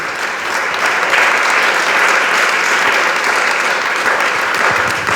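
A church congregation claps hands together in loud, sustained unison, a dense, continuous burst of many palms close by with no voices standing out.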